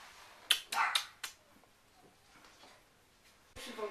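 Young lost dog of about seven to eight months, recently caught and taken to a shelter, gives a few short yelps and barks close by in quick succession, then quiet, with another brief burst at the end.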